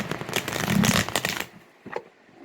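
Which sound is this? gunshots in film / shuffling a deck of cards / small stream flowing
shuffling a deck of cards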